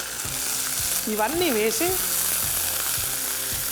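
Tempering of curry leaves, finely chopped green chillies, ginger and mint frying in oil gives a strong, steady sizzle, with a short spoken phrase over it partway through.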